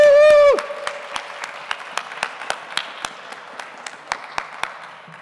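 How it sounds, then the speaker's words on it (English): Audience applause for guests on a main stage at a live event, with sparse, distinct claps ringing out after a short burst of feedback-like tone, staying fairly even over a few seconds. "So let's give them a warm, Daniel Friedman-like round of applause"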